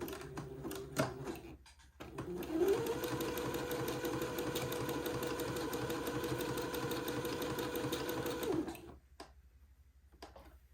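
A sewing machine runs steadily for about six seconds, stitching entredeux onto both sides of beading with white thread, with softer handling sounds before and after the run.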